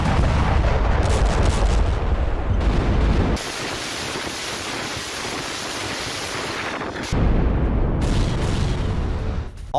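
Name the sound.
Russian artillery firing shells in Ukraine war footage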